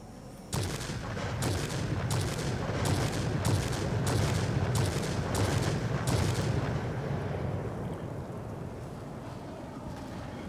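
Aircraft guns on a mid-upgrade B-2 warplane in World of Warplanes fire in about nine heavy, evenly spaced bursts over a loud, constant engine and wind roar, then the roar continues alone.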